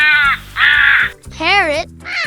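A crow caws loudly and up close, three or four harsh, drawn-out calls in a row with short gaps between them.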